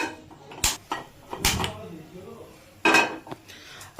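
A five-litre pressure cooker handled on a gas stove makes several loud metallic clanks and knocks at irregular intervals, with quieter rattles between them.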